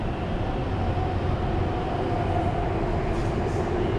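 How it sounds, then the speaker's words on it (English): BTS Skytrain running at Siam Station in Bangkok, a loud continuous rumble and rolling roar of rail cars passing close by, with no talking. "Okay, so ahead of me, Siam Station,"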